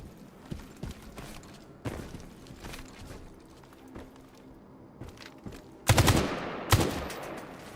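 Armour-piercing rounds fire in the Military Invictus video game: a few faint, scattered shots, then two loud, sharp blasts close together near the end.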